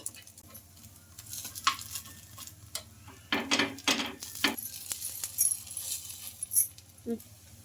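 A spoon turning and scraping a bottle gourd breakfast in a pan, with light metallic clinks and scrapes over a faint sizzle, close and intermittent.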